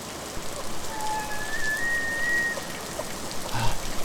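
A human voice imitates heavy rain with a steady, hissing broadband wash lasting the full four seconds, close and fairly loud, with faint whistly tones drifting through the middle.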